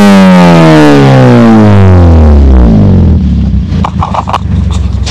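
An upgraded Toyota Vios exhaust revved hard, the engine sweeping up in pitch to a very loud roar, then dropping back into a rough, rumbling idle with crackling pops.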